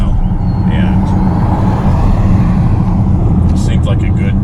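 A 2021 Porsche Cayenne base model drives on wet roads, giving a steady, loud low road and engine rumble with tire hiss throughout, plus a few faint higher chirps near the end.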